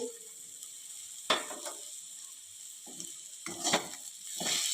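Bitter gourd pieces sautéed in oil with jaggery and salt, giving quiet scraping stirs in a pan over a faint steady sizzle, with a few louder clusters of stirring strokes.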